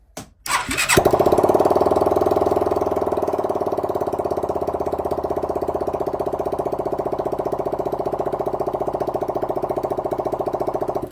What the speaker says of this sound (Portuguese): Então vamos funcionar a moto